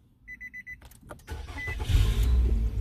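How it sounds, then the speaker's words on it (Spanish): A Nissan with keyless push-button ignition: a short series of electronic chime beeps, then the engine cranks and starts, settling into a steady, close, rising idle rumble. "el carro ya está trabajando normalmente como tiene que ser"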